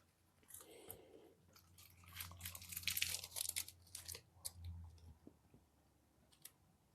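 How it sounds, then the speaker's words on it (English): Food is chewed right against the microphone, wet crunching and smacking bites that build to a dense cluster in the middle before easing off, with faint crinkling alongside. "Chewing in the mic."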